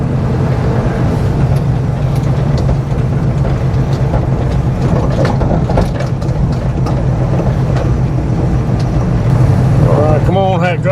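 An old car known as Hack Job drives across a road with a loud, continuous low engine rumble and droning hum close by, plus a few voices toward the end.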